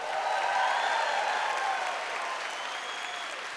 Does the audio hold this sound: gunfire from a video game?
no